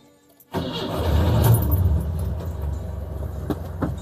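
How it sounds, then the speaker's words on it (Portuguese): A 1975 Ford Maverick four-cylinder engine is started with the key, catching quickly after a brief crank and settling into a steady, close idle rumble. "Isso aí, 4 cilindros roncando."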